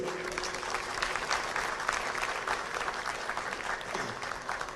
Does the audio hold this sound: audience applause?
yes